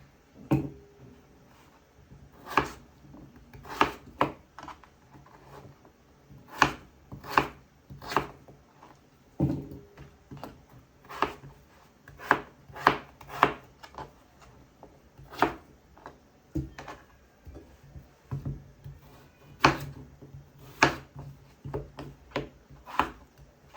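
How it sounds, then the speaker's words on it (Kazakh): A knife dices potatoes on a cutting board, crisp irregular knocks repeating throughout, close and fairly loud, with short pauses between bursts of dicing. "біз картошкамызды кубиктап тураймыз"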